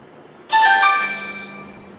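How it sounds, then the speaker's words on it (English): A phone plays an incoming-call ringtone, a single bright chiming tone that starts suddenly, rings clearly for about a second and then fades, close and loud against a near-silent room. "People trying to call my phone, I don't know who it is."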